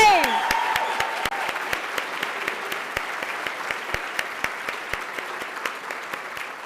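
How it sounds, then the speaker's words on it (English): An audience at the POPLI fundraiser gala in 2023 breaks into applause, starting loud and dense and then thinning to scattered claps that taper off over several seconds, with a brief voice at the start. "one more round of applause, actually a massive round of applause for Dr. Verna and Brother Shane."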